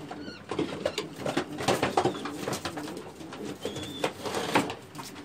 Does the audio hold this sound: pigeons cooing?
yes